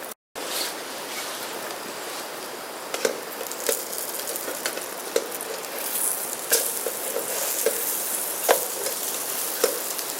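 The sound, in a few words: Caribbean Spam slices frying on a Trangia stove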